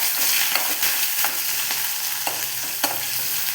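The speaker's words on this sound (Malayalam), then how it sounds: "ഈ ഇപ്പം ലോ ഫ്ലെയിമിലാണ് ഇട്ടിരിക്കുന്നത് ഈ പച്ചമുളകും ഇഞ്ചിയും ഒന്ന് ചെറുതായിട്ടൊന്ന് വാടി വരണം" Chopped green chillies and minced ginger fry in a pan over a low flame, giving a continuous soft sizzle broken by light scrapes of stirring.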